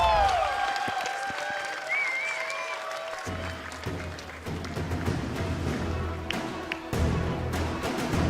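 A live esports crowd at a Call of Duty tournament cheers and applauds, a broad sustained roar with scattered claps and thuds, while a presenter talks over it.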